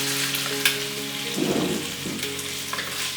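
Beef stir-fried in a pan, a loud continuous sizzle with scraping bursts as the meat is tossed, over a faint steady hum, no talking.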